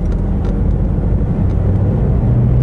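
A manual car's engine pulling in second gear, a loud, steady low drone heard from inside the cabin with a slight rise in pitch as it speeds up.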